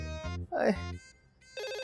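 Landline telephone ringing indoors in a sitcom, two loud bursts of electronic trill separated by a short gap, with a brief voice in between.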